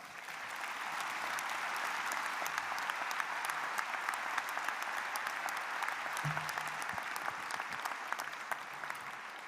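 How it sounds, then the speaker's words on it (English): Steady, full applause from a commencement audience at a college undergraduate ceremony, dense clapping holding evenly for the whole stretch without voices over it. "Let's please give him another round of applause."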